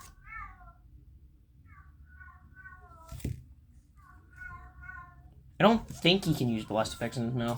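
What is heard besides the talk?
cat meowing in the background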